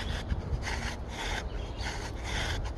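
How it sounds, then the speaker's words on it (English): A bow drill spindle rubs against a flat wooden fireboard with even back-and-forth strokes, producing a steady, close, raspy wooden friction that swells and eases with each draw. "you're just going to do nice even draws"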